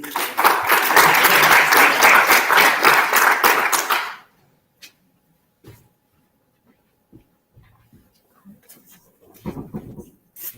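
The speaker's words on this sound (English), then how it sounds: "A round of applause for Ethan, please" An audience at a demo day event bursts into loud, dense applause for about four seconds, which then stops abruptly, leaving near silence broken by a few small knocks and shuffles.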